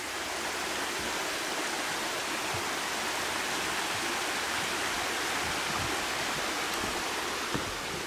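Steady rushing of ice-cold stream water flowing over rocks in Yakutia, continuous and fairly close, with no voices.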